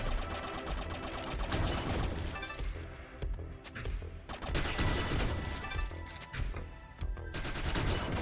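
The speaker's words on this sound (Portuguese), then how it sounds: "Vamos agilizar aqui nossa vida com a metralhadora" Rapid machine gun fire bursts in The Mummy Demastered, a metroidvania video game, dense and continuous over game music and effects, with brief gaps between volleys.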